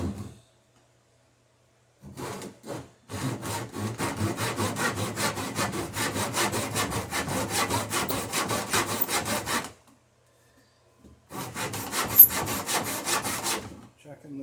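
Hand saw cutting a wooden tenon during boat rig work, a fast rhythmic rasp of back-and-forth strokes running for several seconds, then a pause and a shorter burst of sawing, close and clear with no talk.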